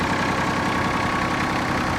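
A Mitsubishi GF15 mini tractor's three-cylinder engine idles close by, a steady low knocking rumble throughout.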